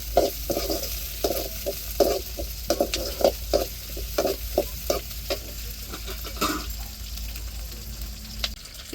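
Curry leaves sizzle in hot oil in a pan, crackling close up with repeated stirring scrapes in an uneven rhythm.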